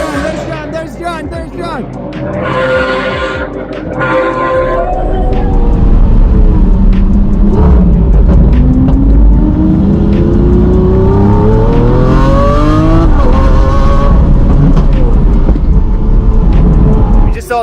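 A race car lapping a track revs loudly, its engine pitch climbing and dropping through gear changes as it sweeps past, while people talk over the noise.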